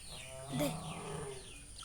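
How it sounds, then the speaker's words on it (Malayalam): A large goat on a farm lets out a single short bleat, faint and some distance away, against quiet outdoor background noise. "ഇതൊരു വലിയ ആട്."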